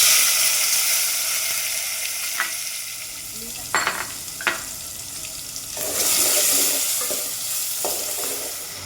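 Tomatoes fry in a pan with asafoetida, bay leaf, red chillies, cloves and homemade spice mix, a steady close sizzle broken by spoon clinks and scraping as the mix is stirred.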